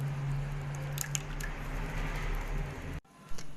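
Patishapta pitha batter is stirred in a bowl, giving a steady wet squishing churn up close that stops abruptly near the end, followed by a brief soft knock.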